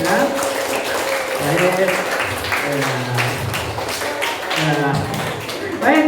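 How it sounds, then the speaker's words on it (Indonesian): A classroom group claps hands together in a dense burst of scattered slaps, mixed with a teacher's voice and children talking throughout. "tepuk tangan untuk kita semua sudah mengerjakan tugas ya"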